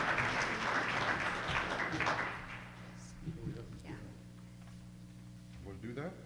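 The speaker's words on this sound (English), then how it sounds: "let's give you all a big round of applause." Audience applause at a winter shelter volunteer orientation, a dense burst of clapping for the first two seconds that tapers off, leaving scattered claps and a quieter room.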